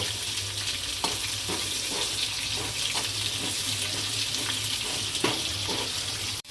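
Onions sauté in hot oil with a steady sizzle, while a spatula scrapes and taps the pan at fairly regular intervals, close and clear.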